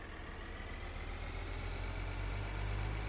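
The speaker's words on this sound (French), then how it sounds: "Donc on va prendre ce tracteur et on va y aller." A tractor engine idles steadily in Farming Simulator 2013, a continuous low rumble with a faint whine that holds even and unbroken throughout.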